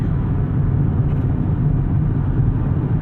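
A new Nissan Z sports car engine drones steadily from inside the cabin, a deep, muffled rumble at constant level with no talk.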